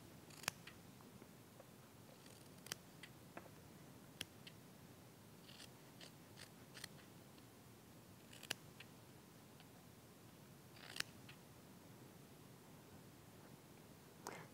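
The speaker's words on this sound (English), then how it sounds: "just trim off the outside." Scissors trimming fabric at close range, with a handful of faint, sharp snips and clicks spaced irregularly over a quiet hiss.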